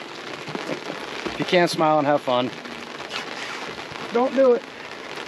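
Rain falls on a bass fishing boat on Lake Wimico, Florida, making a steady hiss and patter throughout while someone talks over it.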